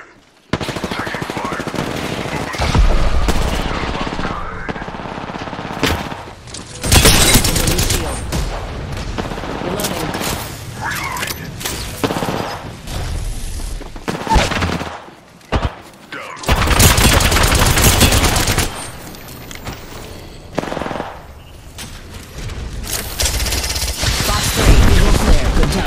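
Automatic and heavy gunfire in Apex Legends erupts in loud bursts with short lulls between them. A voice speaks briefly under the shooting.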